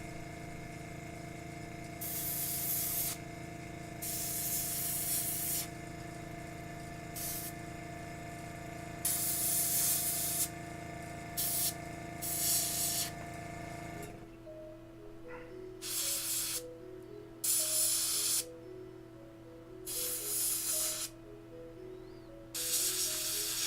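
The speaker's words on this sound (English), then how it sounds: "So all the spikes and stuff, the teeth, I'm going to spray with this color." Spray paint hisses onto the spikes and teeth of a Reaper Miniatures Father Dagon miniature in several close, loud bursts of varying length, over a steady tonal background.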